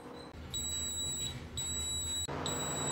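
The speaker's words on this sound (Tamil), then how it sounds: "இந்த மாதிரி பீப் சவுண்ட் வந்துருச்சு." An electric cooker beeps when the sambar is done: three evenly spaced high, clear electronic beeps, each lasting about a second, sound over a steady hum of kitchen background noise.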